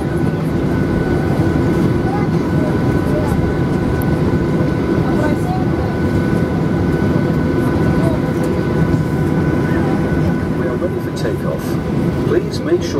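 Inside the cabin of a Pobeda Boeing 737-800 taking off from Vnukovo airport, a loud continuous engine roar and rumble fills the space, with steady tones and occasional rattles and clicks throughout.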